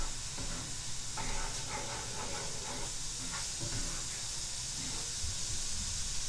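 Ground meat browning in a pan, a steady soft hiss with faint sizzling crackle, while piano notes play quietly in the background.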